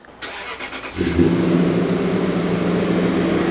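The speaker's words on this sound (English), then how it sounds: "An even better option is to use a remote starter to warm your engine up." A car engine is started by remote starter: a short whirring crank, then the engine catches with a brief rev and settles into a steady, close idle.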